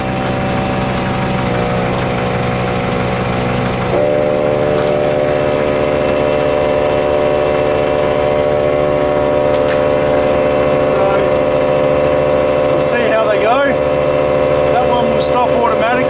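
A Milwaukee M18 cordless tyre inflator runs close by with a loud, steady motor drone that steps up in intensity after a few seconds and holds without a break. Faint chirps appear near the end.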